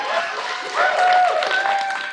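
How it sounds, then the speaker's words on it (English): An audience applauds in the Seattle City Council chamber. The clapping is a dense, moderately loud wash that swells midway, with a voice speaking over it. "please hold your applause"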